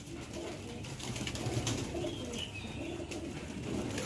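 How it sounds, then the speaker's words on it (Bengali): Magnet pigeons, fancy pigeons with fish-scale patterned feathers, coo softly and repeatedly amid a busy, noisy loft ambience. "এই হচ্ছে ম্যাগনেট পায়রা"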